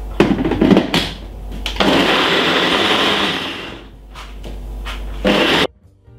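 A Ninja blender chops coconut with water in loud, roaring bursts. Short pulses open, then a sustained whir runs for several seconds, dips briefly, surges again and cuts off abruptly near the end.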